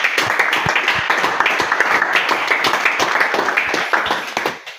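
A church congregation at a testimony service in Yaoundé claps together in a dense, steady burst of applause that holds for several seconds before starting to fade at the end.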